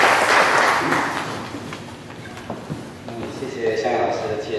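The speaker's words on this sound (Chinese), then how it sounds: "请大家掌声" An audience claps at a book launch forum held at the Taiwan Literature Museum, a dense burst of applause that is loud at first and then thins out over a few seconds.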